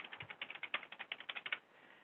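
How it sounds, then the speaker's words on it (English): Rapid, even keystrokes clicking on a keyboard, about a dozen taps in quick succession, close and fairly quiet, ending in a brief pause. "or you can actually type it in with your keyboard"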